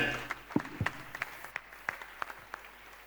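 A church congregation applauding, heard as a short run of sparse, scattered hand claps that are fairly faint and spaced irregularly over a quiet room.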